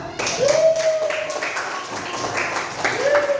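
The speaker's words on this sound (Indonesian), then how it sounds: "Tepuk tangan dulu untuk kita semua." A classroom of children clapping their hands together, a steady patter of many hands close by, with a teacher's voice cutting in briefly over the applause.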